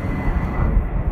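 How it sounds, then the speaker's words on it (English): Airplane passing overhead near a beach, a steady low broad rumble that holds evenly throughout with no voices. "I'll watch the planes go by, yeah?"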